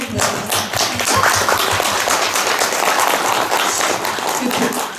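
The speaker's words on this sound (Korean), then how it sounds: "박수를 한번" Audience applause after an actress's remarks at a post-screening talk in a small independent cinema, steady dense clapping sustained for several seconds with a voice talking over it.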